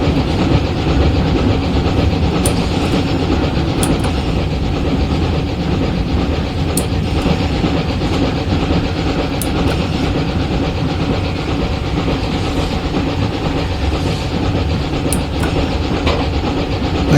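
A narrow gauge steam train runs on the Clear Creek line in Train Simulator Classic, giving a continuous rolling rumble with faint rhythmic rail clicks and no voices.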